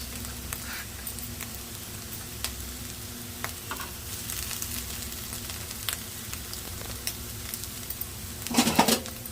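Egg burji sizzling and frying in a pan, with occasional scrapes and stirs and a louder burst of mixing near the end; steady close crackle throughout, no talk.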